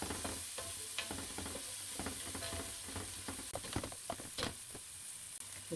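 A spoonful of garlic sizzles in a pan for a turnip-leaf stuffing, with a constant hiss broken by quick crackles and light stirring taps, close and fairly quiet, with nobody speaking.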